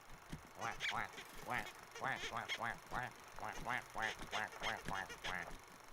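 A voice imitates a duck's quacking, a steady run of nasal quacks close by, filling the whole stretch.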